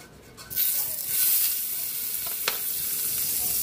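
Butter sizzling loudly in a hot pan as sautéing begins for a pork rib kaldereta, a steady bright hiss that jumps up after a quiet half-second start, with a brief clink partway through and no talking.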